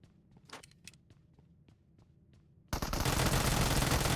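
Sparse clicks and thuds of movement in PUBG Mobile, then a sudden sustained burst of rapid light machine gun fire fills the last second and a half, loud and dense.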